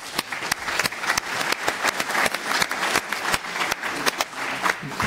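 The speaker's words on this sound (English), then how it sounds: "I would like to request you to give a round of applause to all three panelists." Audience applause for three panelists at a UNESCO-UNEVOC TVET learning forum plenary session, a steady mid-level patter of many hands with distinct individual claps standing out throughout.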